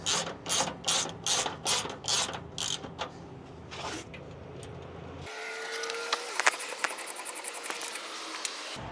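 Ratchet wrench with an 18 socket backing off nylon locking shock nuts on a Peterbilt 389 truck: rapid bursts of close clicking in the first few seconds, then quieter, looser ratcheting and metallic ticks.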